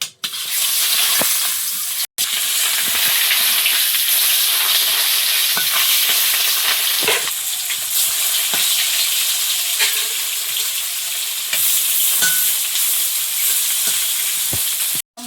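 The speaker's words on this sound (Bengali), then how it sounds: "মাছগুলো ভাজা হয়ে গেছে" Shol (snakehead) fish fries in oil in a Sundarbans home kitchen, giving a loud, continuous sizzle with occasional sharp pops and clicks, close by and without talk.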